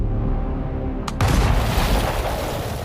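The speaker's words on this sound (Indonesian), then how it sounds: "Tom mengambil detonator bom tersebut dan langsung meledakkan bomnya yang sudah terpasang di jalan" A bomb planted on a road explodes in an action film, a sudden loud blast breaking over a dense, rumbling background and leaving a sustained roar after it.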